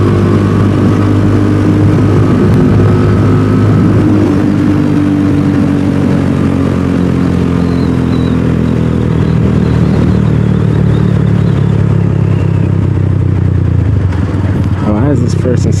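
Steady loud drone of a DF250RTS motorcycle engine cruising in third gear, heard from the rider's position with constant wind rush throughout, and someone talks over it.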